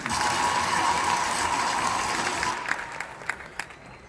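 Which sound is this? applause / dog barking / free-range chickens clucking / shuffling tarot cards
applause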